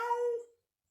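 A short single cat meow, fairly close and moderately loud, fading out within half a second and followed by silence.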